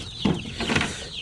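Chickens and week-old chicks on a poultry farm give soft clucks and peeping calls, a couple of brief close sounds over a murmuring flock.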